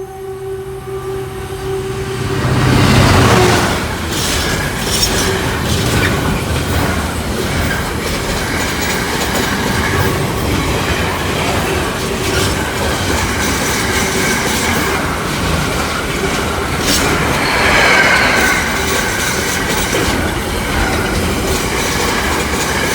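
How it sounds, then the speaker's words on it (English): A one-carriage train on the Lincoln Central to Leicester service passes a level crossing, a steady close rumble with wheel clatter and a high squeal that fades and swells again, with no voices. "the 13:37 Lincoln Central to Leicester has one carriage"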